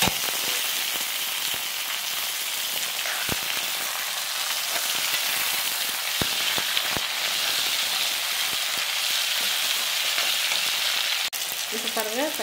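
Tomatoes sautéing with onions in a pan for Chettinad fish curry masala, a steady dense sizzle with scattered sharp pops and occasional stirring clicks, close and continuous, with no talking.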